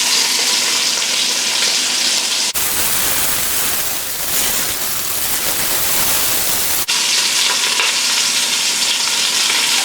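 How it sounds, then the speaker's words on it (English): Beef sears in a hot pan for a dark-beer stew, a loud, steady sizzle and crackle that swells to a denser roar midway before settling back, with no talking. "Now when you sear, this is what you want to happen to the meat"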